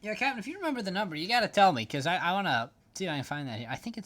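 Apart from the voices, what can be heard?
None of the usual background noises is heard.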